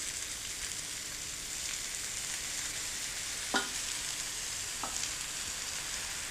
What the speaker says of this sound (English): Stir in about 2 teaspoons of light soy sauce.